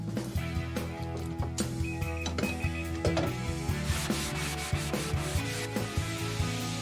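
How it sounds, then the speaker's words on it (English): Steady rhythmic rubbing and scraping as a restored wooden letter is sanded by hand, close and moderately loud, with repeated strokes over several seconds and no voices. "The finished letter is sanded and coated with a thin, dark polish to create a uniform aged effect."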